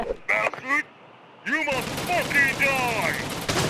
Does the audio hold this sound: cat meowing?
no